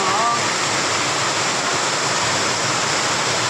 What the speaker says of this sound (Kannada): ಸಿಕ್ಕಾಪಟ್ಟೆ ಜೋರೈತೈತೆ ಪುರದಮ್ಮ ದೇವಸ್ಥಾನದಲ್ಲಿ ಮಳೆ